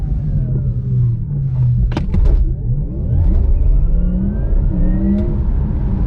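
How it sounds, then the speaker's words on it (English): A Porsche Taycan Turbo electric car on the move, a loud close whirring drivetrain tone that rises and falls in smooth sweeps as it accelerates, with road rumble underneath and a few sharp clicks. "what Porsche have done with this, they've kind of delivered this very kind of cool, futuristic, unique noise"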